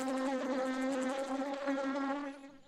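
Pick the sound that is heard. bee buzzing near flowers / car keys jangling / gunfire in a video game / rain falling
bee buzzing near flowers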